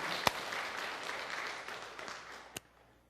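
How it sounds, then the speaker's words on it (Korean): A church congregation applauds in a broad, steady wash of clapping heard from a distance, with a couple of sharper claps standing out before it fades toward the end. "우리의 마음을 담아서 큰 박수로 감사를 한번 드리겠습니다"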